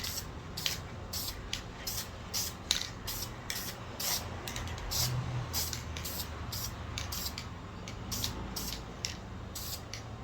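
A spray can lays a coat of Plasti Dip onto a Dodge Durango roof AC vent in a series of short, sharp hissing bursts, fairly close and evenly paced, with no talk.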